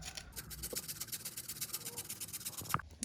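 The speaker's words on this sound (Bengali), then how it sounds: "এই যে লেবুটার খোসা আমি ঘষে দেবো এর ভিতরে ফ্লেভারের জন্য" Lemon peel grated by hand over cake batter in a home kitchen, a quiet, close, rhythmic rasping of short repeated strokes, faint overall with a small knock near the end.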